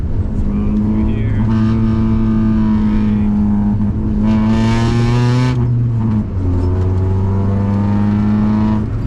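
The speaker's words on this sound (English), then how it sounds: "brake, downshift, right? Just rev matching." A car engine revs through heel-toe downshifts with rev matching, a loud close drone that blips up sharply in the middle and then settles back, continuous throughout.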